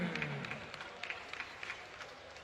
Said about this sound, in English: Ladies and gentlemen, once again, your applause for Matum Gichandra Singh